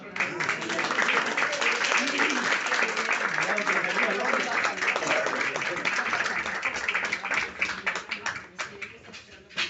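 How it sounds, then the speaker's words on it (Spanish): Audience applauding at a lecture on Granada at Casa de Andalucía in Barcelona, dense sustained clapping that runs nearly ten seconds before thinning out toward the end, with voices mixed in underneath. "Yo voy a pedirles un aplauso para ella porque hoy es su cumpleaños"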